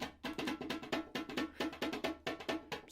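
Percussion loop played back in Ableton with full transients, a busy pattern of sharp, punchy drum hits with quick bright attacks in steady rhythm, no voices.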